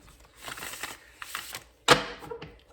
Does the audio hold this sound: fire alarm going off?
no